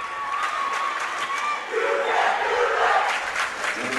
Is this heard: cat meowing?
no